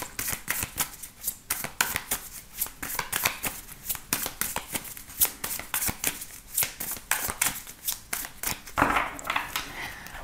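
A tarot deck being shuffled and cut by hand, with rapid, dense riffling and flicking of cards repeating steadily throughout, close and crisp, with one louder flurry near the end and no talking.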